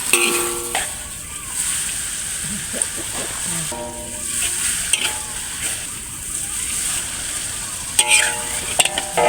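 Boiled mee sua noodles being stir-fried in a pan, a loud continuous sizzle with wet stirring and sloshing throughout, and a few sharper scrapes; voices talk over it at times.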